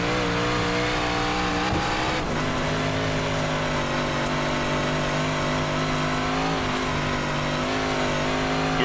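A 358 Modified dirt race car in iRacing holds its engine at full throttle at Port Royal Speedway, a loud, steady, harmonic drone that dips briefly and then settles back into a constant high-rev roar.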